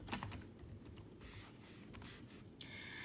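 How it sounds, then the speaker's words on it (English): Steady typing on a computer keyboard, a continuous run of close, light key clicks with no talking, ending in a brief pause. "Then you type the correct answers."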